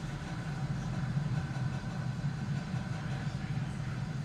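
Deep, continuous rumbling roar from the engines of a SpaceX Falcon 9 rocket lifting a crewed Dragon capsule, a steady low-frequency thunder heard from a distance without a break.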